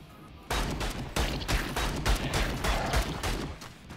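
Weapons firing in the Vicious Attack Llama Apocalypse video game: loud, dense bursts of rapid gunfire that repeat nearly without pause for several seconds, with no voices.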